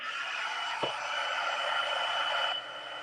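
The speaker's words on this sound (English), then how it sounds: "And then you put your heat tool to 2 and then just set your powder." Heat embossing tool blowing hot air to set embossing powder on patterned paper treat packaging, a steady loud whoosh held for about two and a half seconds before easing slightly, with no talking.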